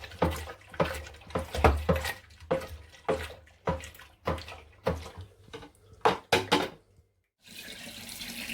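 Cold tap water pours in repeated gushing bursts into a fermenting vessel for a homebrew IPA beer kit, loud and close, then briefly stops before flowing again.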